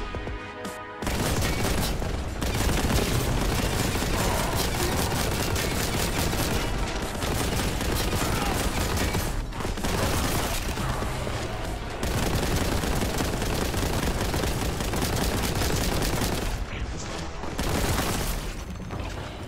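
Relentless gunfire and explosions fill a frantic firefight in the retro shooter Warhammer 40,000: Boltgun, with rapid bursts and booms layered into a dense, loud, nearly unbroken barrage and only brief dips.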